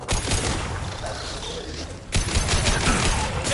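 Dense gunfire and combat noise in the video game Mass Effect 2, with a sustained loud barrage that briefly eases and then surges again.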